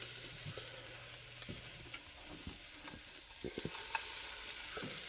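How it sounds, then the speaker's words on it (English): Scrambled eggs sizzle softly in a frying pan while a utensil stirs and scrapes through them with scattered light taps, close and quiet with no talking. "So now we have scrambled eggs instead. So I might as well finish scrambling them."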